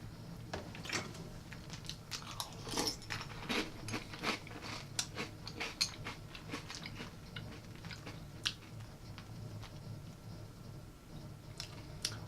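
Crunchy cereal being chewed and bitten close up, with a steady run of sharp crunches and crackles at an irregular rhythm throughout, no talking.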